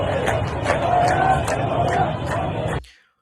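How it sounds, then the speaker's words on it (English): A crowd of demonstrators in Iran claps rhythmically and chants together, a dense, loud mass of voices and hand claps that cuts off abruptly. "So they're clapping and they're saying Himayat, Himayat."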